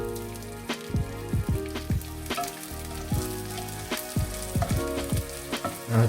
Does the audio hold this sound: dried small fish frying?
yes